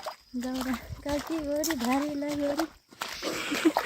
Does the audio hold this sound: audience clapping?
no